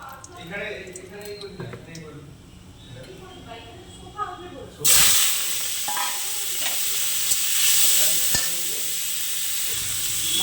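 After some talk, a loud sudden sizzle erupts as food hits hot oil in a wok, then keeps hissing steadily while a voice speaks over it.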